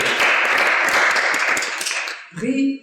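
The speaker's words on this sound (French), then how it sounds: "je crois qu'on peut applaudir" Audience clapping at the closing ceremony of a European film festival, a dense burst of applause that fades after about two seconds as a voice begins speaking over the tail.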